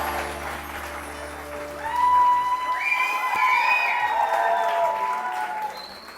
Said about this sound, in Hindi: बहुत सारी तालियां इरम के लिए